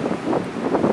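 Wind gusting across an open canoe campsite, a steady broad rush that swells and eases in waves, loud and close against the microphone with no voices.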